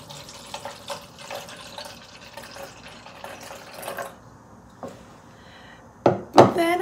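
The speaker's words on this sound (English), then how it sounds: "So I'm gonna add 4 ounces to my measuring cup." Liquid infant formula, about four ounces, is poured into a measuring cup in a steady trickling stream, followed by a pause and then a couple of sharp clatters as the container is set down.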